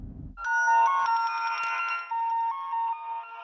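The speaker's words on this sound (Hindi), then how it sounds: "संध्या का फोन आया।" A phone rings with an incoming call, its electronic melodic tone starting abruptly after a brief low rumble and continuing steadily and fairly loud, alone without voices.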